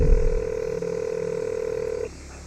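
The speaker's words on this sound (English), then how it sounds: "In a phone call Josh made to Heather from the jail, he talked about his predicament" Telephone line tones on a call placed from jail: a loud, steady electronic tone holds for about two seconds with a faint click partway, then cuts off to quiet line hiss.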